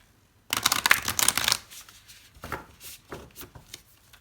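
A deck of tarot cards is shuffled up close, a dense burst of riffling and slapping followed by softer, intermittent card shuffles and taps, with no voices.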